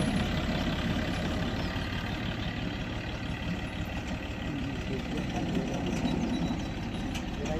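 A tractor engine drones steadily and fairly faintly while pulling a cultivator through hard farmland, with a continuous low rumble and no clear breaks throughout.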